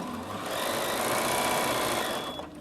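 A Bernina 7 Series sewing machine with stitch regulator hums and whirs steadily at high speed, a continuous mechanical buzz with a faint high whine running through it.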